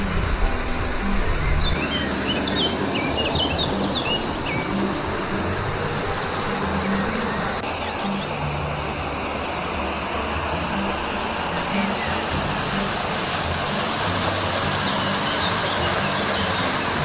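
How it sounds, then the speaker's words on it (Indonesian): A mountain waterfall on the Tompobulu bike trip gives a constant, full roar of falling water that fills the whole stretch without pause, while voices talk faintly underneath. "Akhirnya kembali lagi ke air terjun ini."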